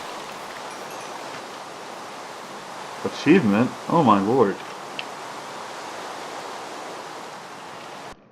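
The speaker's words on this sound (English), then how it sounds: "We gotta cut the frickin' rain off." Rain in a video game, a steady even hiss that fills the background, with a voice briefly speaking over it partway through.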